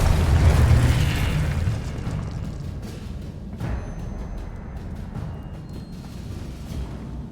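A Confringo spell explosion in the Hogwarts Legacy video game opens with a loud, deep boom that rumbles and slowly fades into a lingering roar, with a smaller burst partway through.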